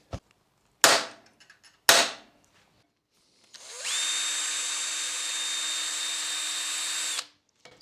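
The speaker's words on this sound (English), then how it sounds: "So now I'm going to drill a hole in that end" A power drill runs steadily for about three seconds, whining at a constant pitch after two sharp knocks, then stops.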